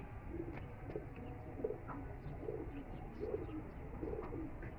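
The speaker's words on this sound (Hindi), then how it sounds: "ये देखें ये कितना खूबसूरत कबूतर है माशाल्लाह" A domestic pigeon in a Lahore loft cooing in soft, low, repeated phrases at a steady rhythm, close by but quiet, over a faint background hum.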